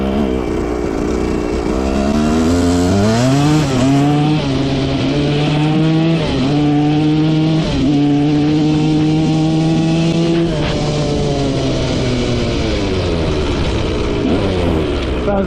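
A 1980s barn-find dirt bike engine revs hard and close, its pitch climbing and dropping through repeated throttle blips, with a slipping clutch; loud and sustained throughout.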